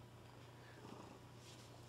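A cat purring softly and close, a low steady rumble with a faint continuous rhythm over a quiet background.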